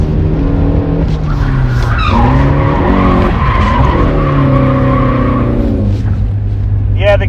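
Tires squeal and skid loudly as a mid-engine car's engine roars and shifts pitch through a long drift, close by and sustained.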